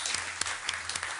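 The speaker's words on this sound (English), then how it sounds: "Could have a round of applause for Mr. Pyers." A crowd at a town board meeting applauds steadily, a dense patter of many hands clapping at moderate volume for about a second.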